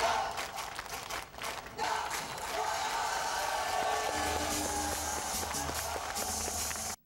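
A crowd at a Korean political rally cheers and claps for Roh Moo-hyun in a loud, dense roar. The sustained noise has some brief dips and a steady low hum underneath.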